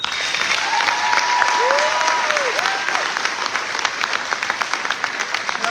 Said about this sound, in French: Un applaudissement pour les finissants et finissantes